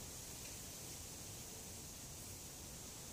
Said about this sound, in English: You could probably hear the wind noise in the trees and stuff just outside.